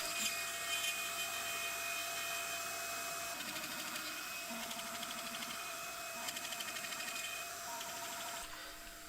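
A CNC router with a 3.1 mm bit spirals down into wood, cutting screw holes for a birdhouse, giving a steady high whine with shifting pitch as each hole is bored, close and continuous.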